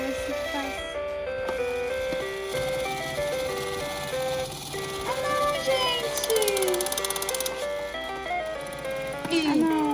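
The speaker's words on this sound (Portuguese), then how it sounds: "a música começou a acelerar, Maria" Electronic jingle of a toy claw machine in an arcade, a bright looping tune that speeds up toward the end, playing steadily and loud while excited voices talk over it.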